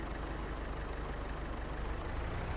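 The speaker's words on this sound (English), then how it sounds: "Let's get back on the tractor, I guess." Tractor engine idling in Farming Simulator 22, a steady low rumble that holds constant and fairly quiet throughout with no other sounds.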